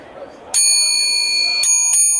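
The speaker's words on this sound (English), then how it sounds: "So this is my big side bell." Large side-mounted bicycle bell struck twice in quick succession, bright sustained ringing tones that linger loud and close at a bike show.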